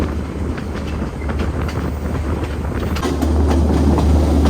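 A passenger train rumbles along the Badulla–Colombo line through Sri Lanka's upcountry mountains, a loud, steady low roar with rattling carriages and faint clicks, swelling slightly louder near the end with wind buffeting.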